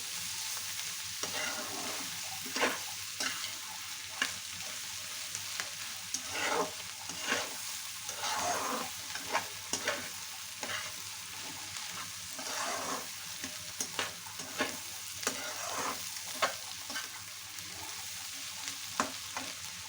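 Onion flowers frying with hilsa fish roe in a pan, a steady sizzle broken by repeated scraping stirs of a spatula, close and fairly quiet with no voices.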